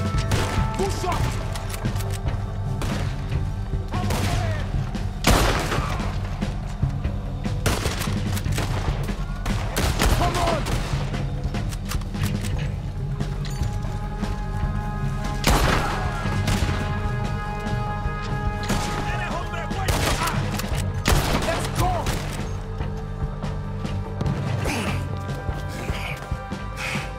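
Gunfire in Red Dead Redemption 2 during an assault on a shooter in a tower: repeated sharp, cracking shots at uneven intervals, some near and loud, others distant, over a steady droning background with occasional voices.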